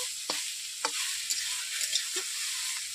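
Onions frying with susni greens in a pan: a steady close sizzle broken by several spatula scrapes and stirs, and no talking.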